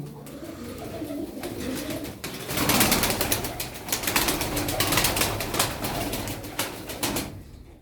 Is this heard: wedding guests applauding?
no